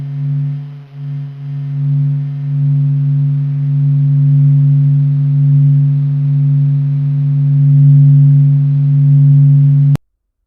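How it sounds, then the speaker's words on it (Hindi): Sun's radio emissions converted into sound, a steady low droning hum with slowly wavering loudness that runs unbroken for about ten seconds, then cuts off sharply. "सभी रेडियो इमिशंस को साउंड वेव्स में बदलकर सूरज की"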